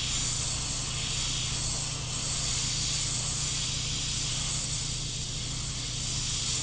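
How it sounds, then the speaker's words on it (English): An airbrush sprays paint onto a Pathfinder skeleton knight miniature, giving a continuous close, even hiss that briefly dips once and then resumes, with no talking. "And I'm just going to start spraying."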